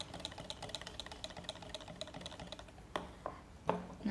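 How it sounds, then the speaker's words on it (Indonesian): Pukis batter and starter mixture are whisked by hand in a bowl, a fast, steady run of close tapping clicks that slows into a few scattered louder knocks near the end. "Setelah itu kita kocok bahan biangnya juga dengan adonannya."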